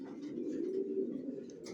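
Racing pigeons, young birds kept indoors, give a low, steady coo that swells and fades, close and alone, with a faint rustle near the end.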